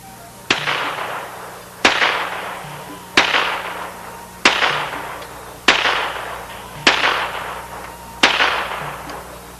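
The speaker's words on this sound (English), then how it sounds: "This .22 pistol registered 110 decibels." .22 pistol firing seven sharp, loud gunshots at roughly even intervals of about one and a quarter seconds, each crack followed by a short decaying echo, with no talking.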